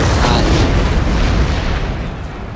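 Siege cannon fire in a war strategy game: one loud, deep boom opens and then rolls into a long, rumbling decay that slowly fades, with no speech over it.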